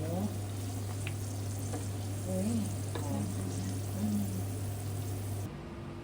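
Pork cracklings frying in a large amount of oil, giving a steady dense crackle over a low constant hum, with a voice speaking briefly in the background.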